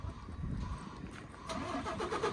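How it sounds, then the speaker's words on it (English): A heavy goods truck engine cranks and catches, then settles into a steady idle with a slight rev, close by. "he can start the engine up"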